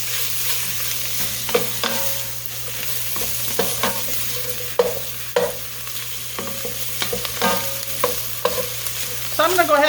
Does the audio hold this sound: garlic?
yes